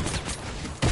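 A new laser pistol fired in Fortnite, a dense burst of rapid shots lasting about a second, ending on a heavier low thump.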